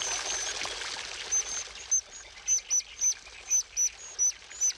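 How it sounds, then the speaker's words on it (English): A white-throated dipper calls while feeding on a soft larva in a riverbed: a regular series of about eight sharp, high chirps, fairly close, over a soft background trickle of flowing water. "The white-throated dipper nervously extracts the soft larva from its shell."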